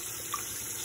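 Water runs briefly and steadily down a drain as old fish tank water is flushed away, a faint close splash and trickle heard alone.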